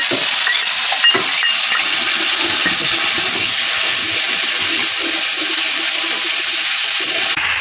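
Onion, garlic and ginger masala frying in a pan for a jackfruit curry, a steady loud hiss and sizzle that holds evenly throughout, with faint clinks near the start and no talking.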